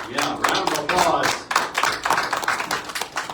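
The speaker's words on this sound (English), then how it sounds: "round of applause" An audience at a talk gives a round of applause, loud close clapping with crisp individual hand strikes, mixed with voices speaking over the clapping.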